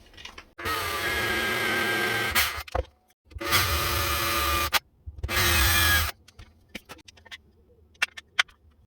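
A power drill bores shallow holes into birch plywood in three steady bursts of high whine, each lasting one to two seconds, separated by short pauses and followed by light handling clicks.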